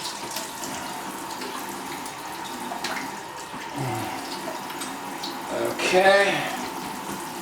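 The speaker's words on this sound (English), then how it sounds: "Just rinse my sink out good when I'm done." Running tap water rinses out a kitchen sink with a steady close splashing rush, while a voice speaks briefly over it.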